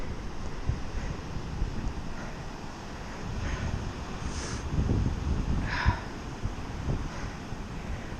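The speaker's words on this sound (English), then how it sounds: "look at those waves" Wind buffets the microphone over a low roar of ocean surf at Crooklets Beach, with a few brief louder gusts and wave crashes rising out of the steady rumble.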